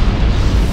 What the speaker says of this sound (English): they're destroyed in massive supernova explosions that generate the very elements of life